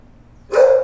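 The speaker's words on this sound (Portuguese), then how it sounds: "Aqui tem um canil, né? Que ficam os cachorros deles." A dog gives one sharp, fairly loud bark from a backyard kennel at a two-story house for sale in Indaiatuba, Brazil, with near silence before it.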